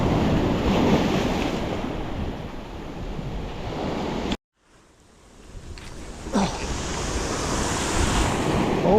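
Sea waves at high tide surge and wash loudly against the shore in a steady roar, broken by a brief drop-out midway before the surf and wind noise return.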